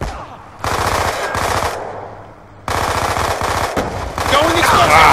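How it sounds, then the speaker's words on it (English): Bursts of automatic gunfire in Call of Duty: Black Ops 2 multiplayer, loud and close, two long sustained volleys separated by a short pause, with game effects layered over them. "It's just frantic shooting"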